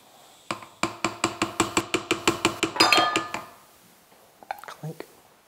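Glass clinks in quick succession, about a dozen bright, evenly spaced taps while a house dressing is mixed, followed by a short rattle and a few faint knocks, all close and sharp.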